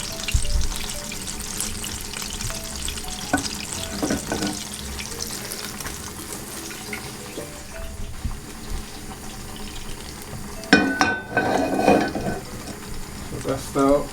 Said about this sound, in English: we're just going to drain off this oil